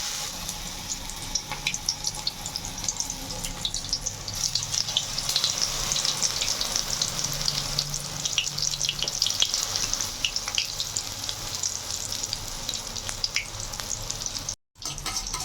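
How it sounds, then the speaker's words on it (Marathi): Stuffed green chillies, aloo-filled mirchi bajji battered and dropped three at a time into hot oil in a wide pan, fry with a steady, dense sizzle and crackle held close and loud throughout, with a brief dropout near the end. "मी ॲट अ टाईम 3 मिरच्या तळून घेत आहे"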